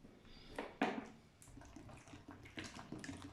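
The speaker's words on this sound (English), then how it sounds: "we have some bottled water which we're going to add" Bottled water poured into a pie mixture of leek, onion and beef mince, faint irregular splashes and trickles with a sharper splash near the start, quiet and close, no speech.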